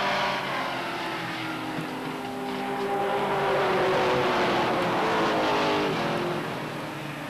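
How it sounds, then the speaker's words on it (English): Stock cars race at Beech Ridge Motor Speedway during a 1991 weekly race night, a loud continuous roar of engines that swells and eases slightly as the field runs, with no talk over it. "Working around the lap car now, the number 11 of Tony Field, both Kevin Durgan and Scott Mulkern"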